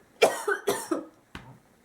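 Three coughs in quick succession, the first two doubled and close together, the last a single short bark after a brief pause.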